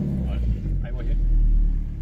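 A Volvo car's engine holds a loud, steady low rumble at full throttle during a burnout, while someone talks over it close by.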